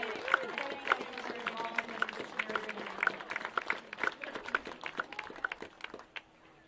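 Applause for seniors at a high school girls' varsity basketball game in a gym, scattered individual claps with sharp irregular peaks over a murmuring crowd, with some voices mixed in.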